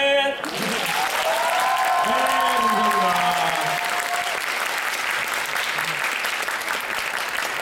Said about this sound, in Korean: 여러분 큰 박수로 앞으로 더 잘하라는 격려 박수 네. 해주시면 고맙겠습니다